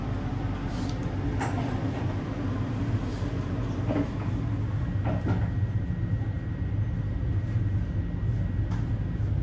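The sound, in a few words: Argo Semeru train departing from Kebumen station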